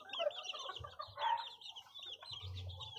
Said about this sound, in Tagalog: nagpaparami ako ngayon ng mga manok